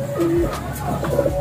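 A pigeon back from training coos close by, a short throaty murmur with a rising and falling tone over a faint background.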